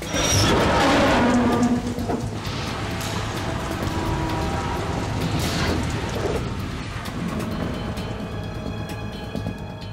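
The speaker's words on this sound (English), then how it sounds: "It stopped raining." Rain in the Metal Gear Solid 2 video game, a steady, dense hiss falling on surfaces. It is loud throughout, with a heavier burst at the start and low rumbling beneath.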